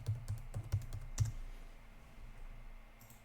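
A computer keyboard types a folder name in a quick run of close, crisp keystrokes, then falls silent into faint room hiss.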